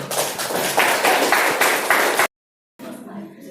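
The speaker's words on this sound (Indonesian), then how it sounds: "Kita beri tepuk tangan." A burst of applause in a classroom, dense clapping from many hands for about two seconds, then abrupt silence and a voice speaking.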